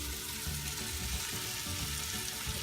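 Onions and green peppers sizzle in a soup pot for sausage tortellini soup, a steady, faint crackling hiss with soft stirring sounds and no talk.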